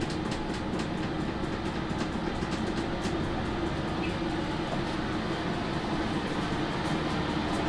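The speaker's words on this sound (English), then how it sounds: "Let me turn the heater back up again." A Chinese diesel heater turned up runs with a loud, steady, low droning roar and an even rumbling hum that stays constant throughout, heard from a couple of metres away.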